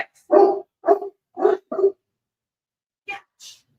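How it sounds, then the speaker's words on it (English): A dog barks four times in a quick cluster, close and loud indoors, then falls quiet before two short faint yips or snorts near the end. "Nobody wants to listen to you barking the whole time."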